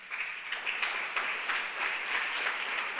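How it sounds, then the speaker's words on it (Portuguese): Steady applause from a crowd, a dense wash of clapping that holds evenly throughout, heard from a little distance. "Você pode aplaudir mais forte e dar um brado de júbilo ao Senhor."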